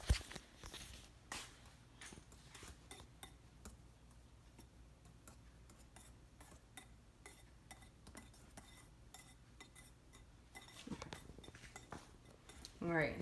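Vanilla pudding mix and 3.5 cups of milk are whisked in a bowl, giving a faint, continuous run of light ticking and clinking against the bowl. People speak at the start and again near the end.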